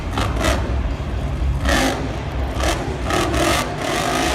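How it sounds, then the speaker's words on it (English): A Devastator monster truck at a Monster Jam freestyle run in Glendale roars with a loud, steady engine drone. It rises in repeated revving surges and has possible engine problems. "Mark Schrader seems to be having engine problems"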